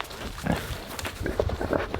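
Pigs on a farm on a freezing winter morning give low, short grunts in scattered bursts over steady outdoor background noise, fairly close by.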